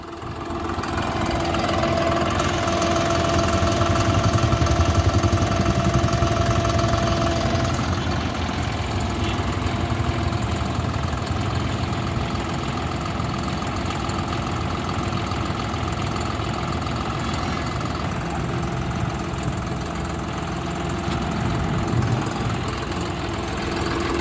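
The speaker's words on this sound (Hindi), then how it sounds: "ये देखो बिल्कुल शानदार आवाज़ है ट्रैक्टर की" A model tractor engine idling steadily for over twenty seconds, a constant close mechanical hum with a slight knocking texture and no talk.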